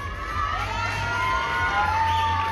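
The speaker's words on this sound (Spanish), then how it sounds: "Un fuerte el aplauso también para Herrera Rosales, Iván Emiliano" A crowd at a school graduation cheers and applauds a graduate with shouts, loud and continuous for a couple of seconds.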